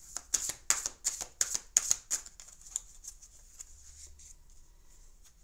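A deck of tarot cards being cut and handled, a quick run of crisp papery riffles and slaps that slows into softer shuffling rustles, close and fairly quiet.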